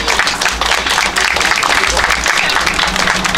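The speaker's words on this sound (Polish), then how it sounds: "Brawa, brawa dla wszystkich." A crowd at a school sports facility opening in Andrychów applauds steadily, dense clapping filling the whole stretch at a loud, even level.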